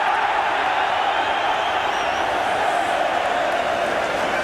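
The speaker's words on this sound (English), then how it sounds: "Cheers from the crowd because the referee originally had given the corner to Liverpool" A large football crowd at an Arsenal v Liverpool Division One match roars steadily in the stadium, a dense, continuous wash of cheering and shouting that never drops away.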